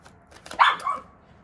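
A puppy gives a single short, high, yappy bark with a slight whine in it, fairly close and moderately quiet, standing alone against a near-silent room.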